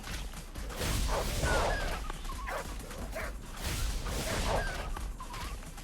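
Dogs in a video game on the PlayStation 3, yipping and barking over a dense, noisy game soundscape in two loud swells, with no talk.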